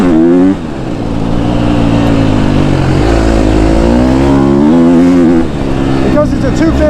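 A KTM 250 SXF dirt bike engine held at wide open throttle, a loud, sustained high-pitched four-stroke wail that climbs and holds steady over several seconds, close and dominant with a brief dip partway through.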